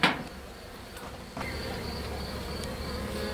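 Bees buzz in a steady, close hum that persists throughout, with a brief knock partway through and the buzzing growing slightly louder afterward.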